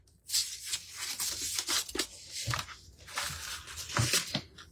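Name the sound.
knife cutting through material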